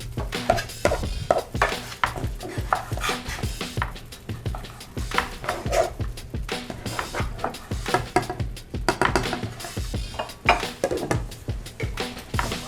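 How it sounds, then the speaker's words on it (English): Chorizo is cut into small, even pieces with a knife in a home kitchen, heard as a brisk, continuous run of close, sharp chopping taps with no talking. "Now I'm gonna start cutting up the chorizo into small, little, even pieces"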